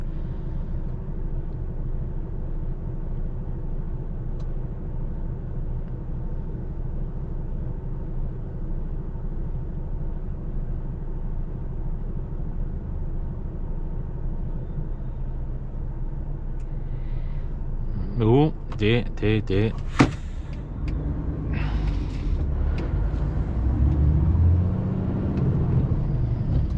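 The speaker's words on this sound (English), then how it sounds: "There's a fair bit of traffic really around here for 1 o'clock midday." Midday city road traffic in central London: a steady low rumble of passing vehicles throughout, with a burst of louder sharp clatter near the end, under occasional talk.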